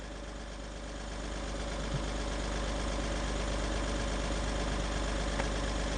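A tractor engine idles close by at a village site where illegal sand mining is under way, a steady low rumbling drone that holds evenly throughout.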